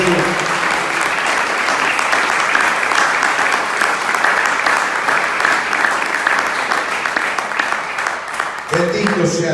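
Loud, sustained applause from a church congregation at an evangelical service, steady clapping filling the room for about nine seconds before a voice returns at the end.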